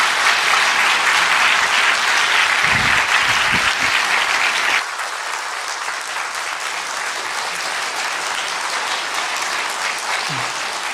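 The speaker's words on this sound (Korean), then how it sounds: "우레와 같은 박수로 환영해 주세요" A church congregation at a Sunday worship service applauds loudly to welcome Pastor 노승환, dense sustained clapping that drops to a softer level midway and continues to the end.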